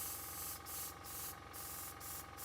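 An airbrush spraying paint onto a piece of paper: a steady, close, airy hiss that briefly dips at regular short intervals, with no voices.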